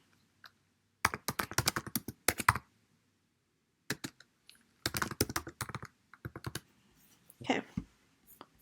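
Quiet bursts of computer keyboard typing sit close by, quick clusters of key clicks separated by short pauses, as a comment is entered, with a faint breath or murmur between.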